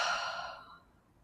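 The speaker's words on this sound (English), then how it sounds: "All together, let's take a deep breath in. Open mouth, exhale." A single deep exhale through an open mouth at the start of a sun salutation yoga practice: a short, close, breathy rush that trails off quickly into quiet.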